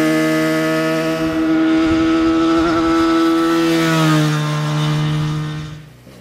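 Benelli BN302 motorcycle at full throttle, a loud sustained engine whine holding a steady pitch before dropping slightly and fading near the end, with no voices.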